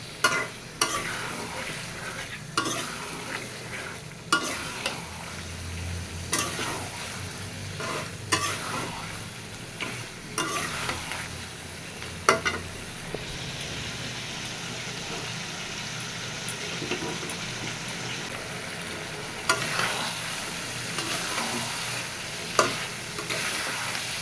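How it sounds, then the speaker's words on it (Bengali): Meat being sautéed and stirred over high heat, with a steady sizzle under repeated scraping strokes of a utensil against the pan, loud and close throughout with no talking. "এবার জাল বাড়ায়ে ভালো মতো কষে নিব"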